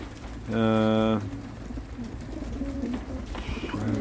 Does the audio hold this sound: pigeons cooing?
yes